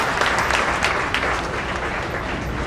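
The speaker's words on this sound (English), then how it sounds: "Students, please give a big round of applause." Audience at an MNIT national conference applauding, a steady burst of clapping throughout at moderate volume, with no talk.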